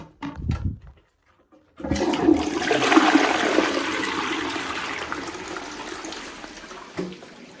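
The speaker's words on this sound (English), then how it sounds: "Very short flush. It's one of those eco flush ones." A short eco toilet flush in a hotel cottage bathroom, a brief clunk of the handle, then a steady close rush of water that holds for several seconds and ends with a small gurgle.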